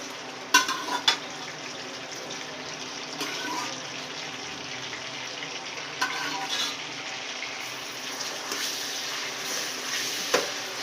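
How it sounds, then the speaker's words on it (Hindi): Beef pieces fry in hot oil in a pot, making a continuous crackling sizzle with scattered sharp pops and stirring clatter throughout. "अब हम इसको अच्छी तरह से फ्राई करेंगे"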